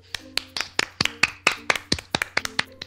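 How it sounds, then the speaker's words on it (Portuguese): Crisp single-person hand clapping, a dozen or so steady claps at an even brisk pace, close and moderately loud with no talking. "Ele merece, bate galera. Palma comigo,"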